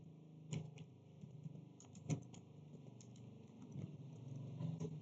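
Switch configuration commands typed on a computer keyboard, scattered soft key taps and a few sharper presses over a low steady hum, faint and close.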